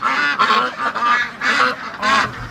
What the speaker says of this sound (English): the ducks are letting me know that some fresh water is in store here